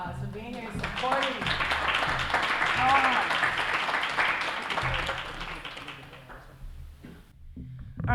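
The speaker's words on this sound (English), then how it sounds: "Give yourselves a round of applause for being here and supporting." Audience applause at a Black writers' literary event, a sustained crowd of clapping that swells loud through the middle and tapers off near the end, with voices and cheers mixed in.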